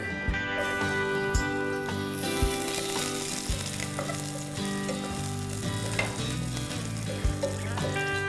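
Garlic frying in hot oil in a pan as soup is started, with a continuous sizzle, occasional clinks and stirring taps over a steady background hum.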